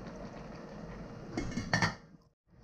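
Ingredients go into a pot of homemade chop suey and a lid is set on it, making a few close metallic clinks and clatters. The clinks build briefly, then cut to near silence.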